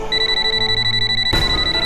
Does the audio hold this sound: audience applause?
no